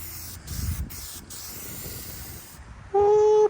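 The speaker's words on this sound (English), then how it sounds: "spray them with some spray paint" A spray paint can hisses steadily for a few seconds as paint goes onto dryer control panels outdoors in light wind, then a short tonal squeal follows.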